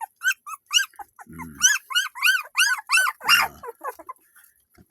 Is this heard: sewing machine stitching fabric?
no